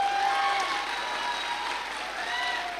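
A steady wash of audience applause at a Safe Shop Diamond celebration, many hands clapping continuously and fairly loud for a few seconds, with faint crowd murmur underneath.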